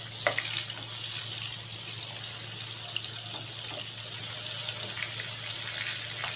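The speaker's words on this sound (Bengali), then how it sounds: "এখন ভেজে নিব।" Prawns rubbed with salt and turmeric sizzle in hot oil with a steady, close, hissing crackle that runs unbroken throughout, with a few faint pops on top.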